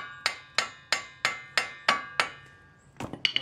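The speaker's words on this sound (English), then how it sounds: "So I'm using a brass hammer to try to not mess up the threads on the end of the axle." Light, evenly paced blows from a brass hammer ring out against the end of an axle on a 2001 Ford Escape, seven crisp metallic taps roughly a third of a second apart, followed by a few quicker, lighter clinks, close up with no voices.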